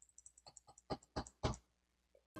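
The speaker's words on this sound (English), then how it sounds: "I'm clicking my mouse right now. I'm pressing F to use the sword." Computer keyboard keys and a mouse click crisply during a first-person action game, a rapid run of light taps building to a few heavier presses, close and quiet.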